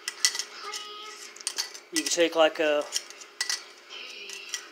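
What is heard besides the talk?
metal pot support locking onto camping stove burner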